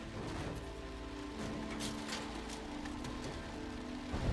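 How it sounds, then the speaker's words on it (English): Rain falling in a scene from the film The Help, a soft continuous hiss of drops on surfaces at low level, steady throughout and carrying no speech. "Oh, for crying out loud, it's just a little rain."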